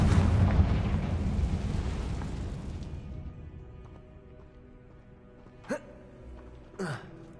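A Confringo blasting spell explodes in Hogwarts Legacy with a loud, broad rumbling blast that decays over about three seconds, followed by two short sharp whooshing bursts near the end.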